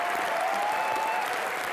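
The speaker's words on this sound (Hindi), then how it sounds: "जिसके लिए जोरदार तालियां सर।" Loud, dense applause from a comedy show studio audience, continuous and close, with no talk over it.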